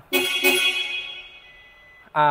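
Two short honks from a replacement horn on a Toyota Tamaraw camper van, in quick succession, ringing out and fading, followed by the start of a third blast.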